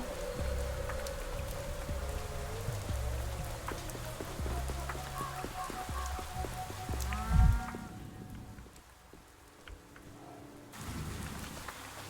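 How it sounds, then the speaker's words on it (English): Steady rain in the video game Pathologic 3 hisses over a low rumble, with occasional footsteps and a brief voice; the rain cuts out abruptly near the end before resuming. "It's raining."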